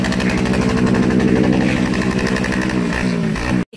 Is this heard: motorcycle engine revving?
yes